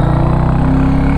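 Exhaust of a Royal Enfield Hunter 350 motorcycle, a loud, close single-cylinder thumping with a rapid, even pulse, held steady through a brief burst with no voices.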